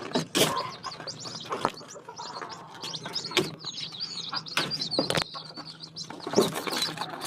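Small birds, chicks in a brooding pen being given vitamins and feed, chirp and tweet in frequent bursts, close and moderately loud, with a few sharper calls and flutters standing out and no talking.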